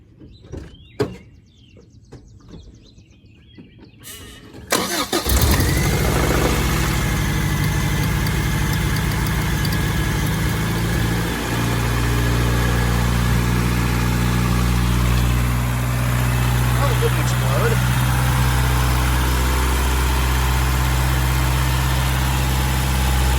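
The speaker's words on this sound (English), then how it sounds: "the only thing left to do is start the truck and see if it explodes" A 1992 Toyota pickup truck engine starts after a few faint clicks and settles into a steady, loud idle that runs without break to the end, with no talking.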